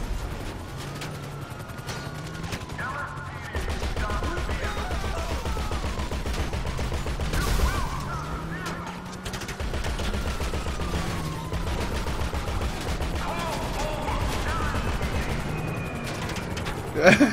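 Video game gunfire crackles in repeated bursts and single shots throughout, mixed with other game sounds, with a sharp louder burst at the very end.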